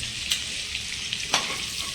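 Cumin seeds and a piece of cinnamon sizzle steadily in hot oil and butter, a soft continuous hiss with a couple of faint pops, close by and with no talking.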